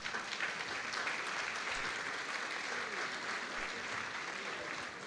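An audience at a conference talk on sustainable growth breaks into sustained applause, a dense, even wash of many clapping hands that stays steady for the whole stretch with no talking.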